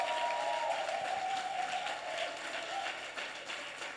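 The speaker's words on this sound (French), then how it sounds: "est-ce que je peux entendre ton acclamation si tu es jeune?" Young people at a church youth convention applaud and cheer together, a broad sustained crowd sound with a faint tonal whistle or hum early on, fairly loud and continuous throughout.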